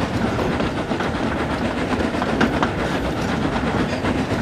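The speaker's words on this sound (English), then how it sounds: "Thomas quickly steamed into Harold's airfield" A steam engine train runs along rails with a steady, continuous rumble and rattle of wheels, close and loud throughout with no other sounds.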